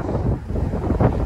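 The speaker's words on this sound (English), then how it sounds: "Sorry about the wind" Gusty outdoor wind buffets the microphone in a steady low roar for just over a second, with a stronger gust near the end, where two Labrador retrievers are running off leash.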